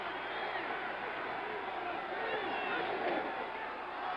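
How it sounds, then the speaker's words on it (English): A football stadium crowd at a 1977 Chicago Bears at Minnesota Vikings game roars steadily, a dense, continuous wall of cheering that holds loud and unbroken throughout as it urges on the Vikings defense. "Crowd imploring the Minnesota defense to dig in and stop them."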